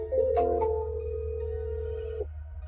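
Outgoing phone call ringing on the line: a short beep, then one long steady ringback tone of about two seconds that cuts off cleanly, heard alone over a low hum.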